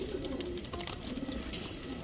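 Pakistani Teddy highflyer Giribaj pigeons coo softly in the background, low continuous murmuring calls over a noisy room with brief faint rustles.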